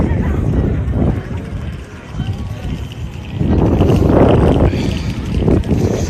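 Strong wind buffets the microphone outdoors at the Walt Disney Studios park, a rushing roar that swells and eases in gusts beneath ongoing talk.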